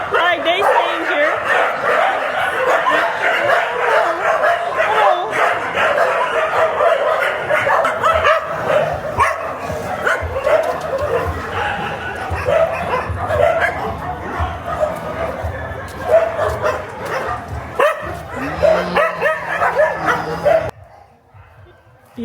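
Dogs bark, yip and whimper almost continuously at a shelter in a rural Sri Lankan village, loud and close, with people chatting and a general crowd murmur underneath, ending in a brief near-silence.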